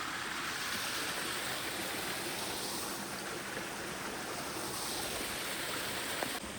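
Waterfall on a creek in San Bernardino National Forest, a steady broadband rush of falling water that holds constant and fairly close throughout, with no voices.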